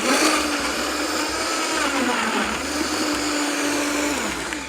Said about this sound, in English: So just put the pine right in your blender.